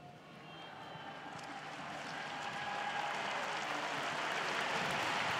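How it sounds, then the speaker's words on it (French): A large crowd applauding at the canonisation Mass at the Vatican, a distant wash of clapping that swells steadily louder, heard alone without speech. "Et les applaudissements qui crépitent."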